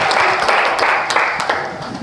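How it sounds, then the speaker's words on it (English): An audience applauds for logistics expert Alok Ji, a loud, continuous wash of many hands clapping with a few sharper individual claps, close and without speech. "Let's clap for Alok Ji."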